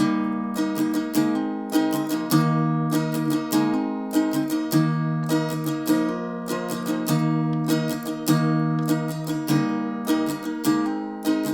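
Guitar strummed through the verse of a country song, a steady, even pattern of bright strokes over shifting chords, near and moderately loud, with no voices.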